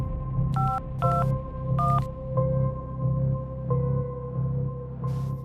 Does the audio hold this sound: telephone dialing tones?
yes